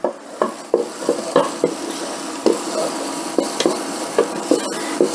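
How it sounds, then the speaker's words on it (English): Minced garlic frying in a pan for Cuban-style black beans, a steady close sizzle broken by a dozen or so clanks and scrapes as it is stirred and tossed, with no talk. "I got my minced garlic. Throw that in. Give it a toss."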